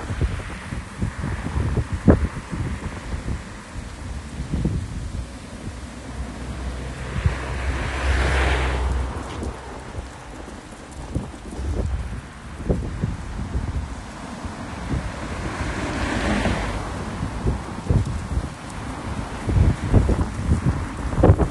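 Strong evening wind blows through a home garden on Queen's Road in Aberdeen in July, a loud roaring rush that swells and eases in gusts, with microphone buffeting and rustling throughout and no voices.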